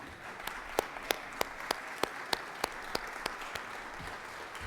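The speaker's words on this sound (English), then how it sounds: "please give them a round of applause" Applause fills a legislative chamber, a dense steady wash of many hands with a few louder individual claps ringing out at a regular beat over the crowd.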